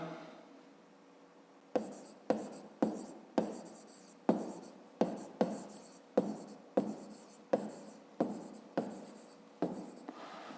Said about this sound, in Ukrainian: Записуємо тоді друге.